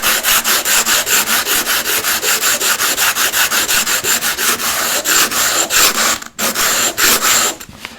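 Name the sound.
sharpening slipstone rubbed on sandpaper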